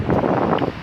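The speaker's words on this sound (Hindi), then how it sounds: "बहुत ज़्यादा आंधी चलती पई है ते आंधी च नज़र भी कुछ नहीं आती। सामने तुसां देख सकते हो बहुत तेज़ हवा है।" Strong storm wind roars across a village, a dense, steady gusting rush with dust-laden buffeting on the microphone, loud and continuous throughout.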